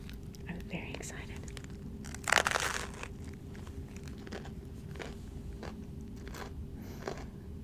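A bite into a crunchy sandwich of peanut butter, jelly and chips gives one loud, close crunch that tails into soft chewing, with faint whispery mouth sounds around it.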